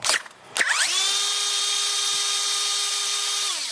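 Power tool whirring on 8mm head bolts at the EGR valve of a 2003–2007 Ford Powerstroke, with a short clatter, then a steady close high-pitched spinning whine lasting about three seconds before winding down.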